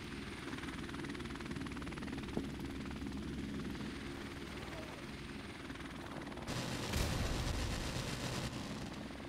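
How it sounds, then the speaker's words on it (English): An enemy helicopter in a video game thunders with a steady, loud rotor rumble throughout, swelling heavier and closer over the last few seconds amid bursts of game gunfire. "Enemy helicopter inbound"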